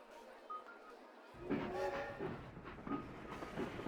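A train runs on a ride in the OpenRCT2 video game, a rhythmic rolling clatter that starts abruptly and carries on at moderate loudness.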